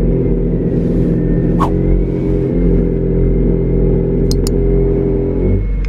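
A car with noisy brakes and missing brake springs is heard while driving. There is a loud, steady low rumble with a faint whine and a few sharp clicks or rattles.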